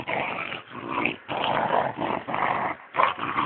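A small dog growls and snarls in repeated bursts, close and loud, with brief yips and gaps between the outbursts and no talking over it.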